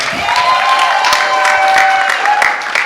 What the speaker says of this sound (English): Let's give our panelists a hand clap.